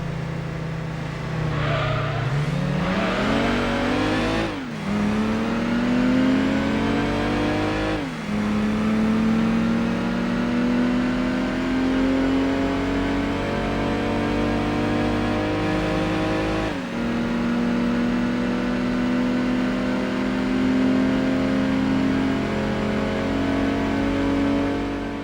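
Car engines in a Gran Turismo 2 drag race: one loud, close engine revs up through a series of gear changes, its pitch climbing, dropping at each shift and climbing again.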